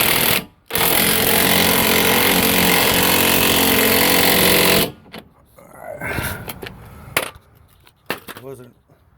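Loud power tool, likely an impact driver, tightening running board bracket bolts on a Ford Super Duty truck, a sustained close burst cut by a brief pause, then quieter clicks and clatter.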